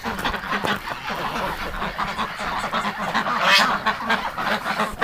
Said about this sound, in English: That freaked the ducks right out.